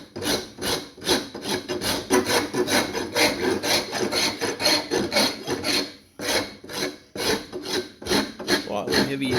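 A heavy-duty rasp filing a wooden take-down sleeve, with steady back-and-forth rasping strokes in a quick rhythm, close and loud, pausing briefly midway before resuming.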